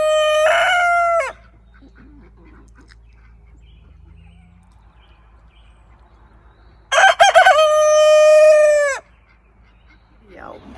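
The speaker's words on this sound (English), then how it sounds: "He has crowed. Which means what? It's a rooster." A rooster crows twice, loud and close, with a long pause of quiet outdoor ambience between the two full cock-a-doodle-doo calls.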